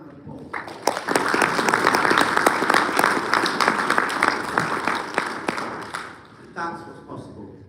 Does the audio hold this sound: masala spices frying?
no